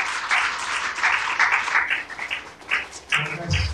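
Church congregation applauding together during a revival evening service, a dense, sustained wash of many hands clapping, close and loud for the whole stretch with a faint voice underneath near the end.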